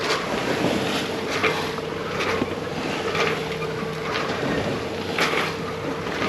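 Short, choppy Mediterranean waves slap against the hull of a sailboat under strong wind buffeting, a continuous rushing wash with irregular splashing hits.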